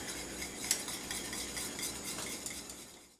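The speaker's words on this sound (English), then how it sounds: "whisk that all together. It helps if you use a whisk" Butterscotch pudding mixture of caramel and milk being whisked in a pan, a continuous close swishing and light metallic scraping with steady rhythm and one brief clink.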